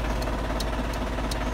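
A vehicle engine idles low and steady at close range, with a constant rumble and faint regular ticking clicks repeating about every third of a second, likely a turn signal flasher, and no talking.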